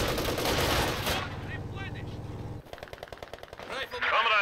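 Bursts of machine-gun and rifle fire crackle in a World War II strategy battle in Company of Heroes 2, with rapid repeated shots in the latter half over game sound effects and voices.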